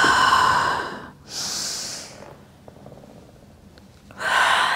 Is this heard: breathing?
yes